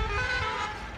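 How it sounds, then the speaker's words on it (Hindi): A bus horn honks on a village road in Punjab, a sustained blaring tone heard over traffic rumble, moderately loud and slightly distant. "बस का हॉर्न चल रहा है"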